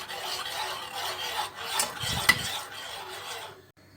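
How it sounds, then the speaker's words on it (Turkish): A spoon scrapes and rasps steadily around the bottom of a pot of thickening salep, a continuous soft rubbing with occasional light clinks against the metal, fading to silence at the end. "Sürekli karıştıralım dibi tutmasın."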